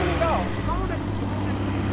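A car engine held at raised revs with the bonnet open while the radiator and temperature are checked, a steady close drone with people talking over it.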